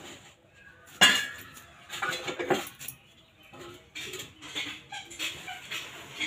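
Knife cutting raw potato into finger-shaped pieces on a board, a run of soft, irregular chopping clicks and taps at close range, with no talk.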